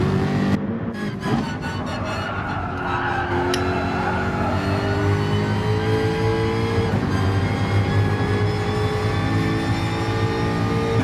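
Race car engines in a sim racing endurance championship replay drone loud and continuously, with rising and falling revs as cars shift gears and pass, plus a brief tyre squeal.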